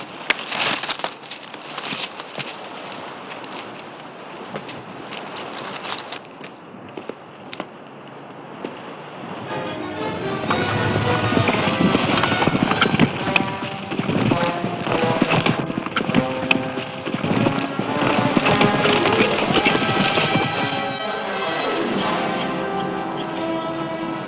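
Horses' hooves clip-clop steadily on hard ground, faint at first and then growing louder and denser as several horses draw near, with a bell ringing faintly in the background.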